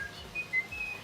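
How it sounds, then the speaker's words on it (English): A person whistling a few short, clear sustained notes in a steady tune, faint against a low background hum with no talking. "I don't know, I just whistle."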